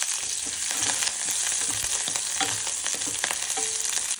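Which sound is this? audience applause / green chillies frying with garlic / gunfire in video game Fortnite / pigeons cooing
green chillies frying with garlic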